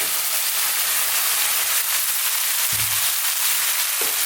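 Cold rice frying in a hot wok over high heat for chicken fried rice, a loud, steady broadband sizzle and hiss with a couple of low clunks from stirring.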